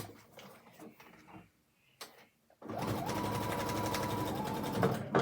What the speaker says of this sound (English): so I'll just sew this on